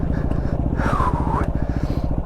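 A Yamaha WR250R motorcycle engine runs steadily while riding single track through woods with slippery logs, its close, continuous pulsing chug loud throughout with a brief rising whine in the middle.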